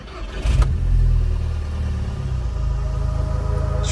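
A car engine cranks and catches, jumping into a loud rev before settling into a steady, close rumbling idle.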